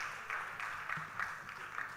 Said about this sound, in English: A huge round of applause, please, ladies and gentlemen.